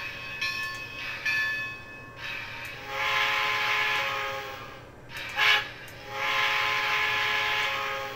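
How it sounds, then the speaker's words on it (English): A DCC sound decoder in a model train engine sounds its whistle, giving several harmonic blasts of varying length with short gaps, fairly loud over a faint background hum and with no voices. "I like that whistle there."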